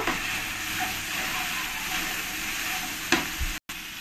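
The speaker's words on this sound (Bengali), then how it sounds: "এবার এর মধ্যে দিয়ে দেব গুঁড়ো মশলা জিরের গুঁড়ো ধনের গুঁড়ো দিয়ে ভালো করে আমি একবার নেড়ে দেব" Ground cumin and coriander stirred into koi fish masala frying in oil: a steady, loud sizzle with scraping stirs, close up, with a sharp clack near the end.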